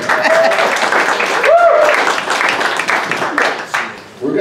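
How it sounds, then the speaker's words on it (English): Conference audience breaks into sustained applause, a dense wash of many hands clapping that swells and then thins out, with voices mixed in. "Clap for each other."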